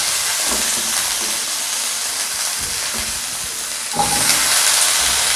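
Potatoes frying in hot oil in a pan for bagada chingudi curry, a steady close sizzle and hiss that swells louder near the end, with faint stirring clinks underneath.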